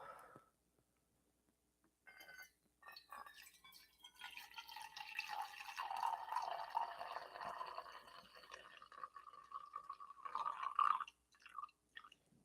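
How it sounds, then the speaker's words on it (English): Fresh coffee is poured into a red cup, a quiet, steady liquid trickle that rises and fills over several seconds after a few soft handling clicks, ending with faint clinks. "we're gonna go ahead and pour some of this fresh coffee."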